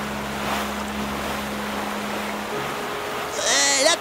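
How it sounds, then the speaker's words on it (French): A storm near fishing boats brings rushing wind and surging waves under a steady low drone, with a rising whistling gust swelling near the end. "La tempête est de plus en plus violente."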